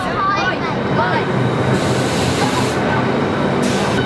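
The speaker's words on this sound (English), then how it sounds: "The high-speed train is the only way to get back into central London." A high-speed train running from Stratford to St Pancras in London, heard from on board as a loud, continuous rumble with rushing noise and faint wheel squeal, close and steady throughout.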